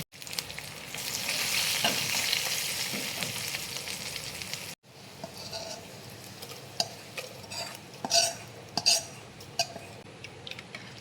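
Fenugreek, dried chillies, shallots, curry leaves and chilli powder frying in hot oil, a loud steady sizzle that cuts off abruptly, then quieter crackling with stirring clatter and scattered pops.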